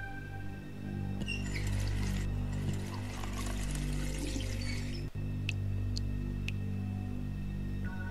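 Water pours steadily into a glass in The Wolf Among Us video game, a continuous close trickle running for several seconds under a low game background hum.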